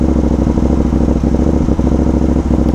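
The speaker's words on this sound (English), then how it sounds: "Your chain is bouncing like mad." Motorcycle stuck in gear with its chain bouncing, giving a rapid, rattling clatter over a steady low engine drone, loud and close.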